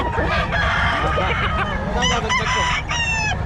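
A Hatch Gray gamefowl rooster crows loudly and close by, its drawn-out call followed by further crowing bursts over a steady low background rumble.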